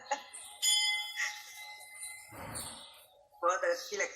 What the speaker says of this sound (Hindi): गले का घंटा, हाथी के गले का घंटा।